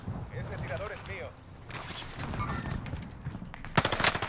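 Gunfire in Call of Duty Warzone: bursts of rapid shots crackle in the mid-distance, with a louder, closer volley near the end, all mixed under people talking.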